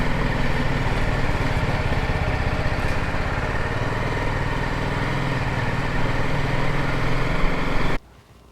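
A BMW 310 GS motorcycle riding along with a steady, loud engine drone and road noise throughout, cutting off abruptly near the end.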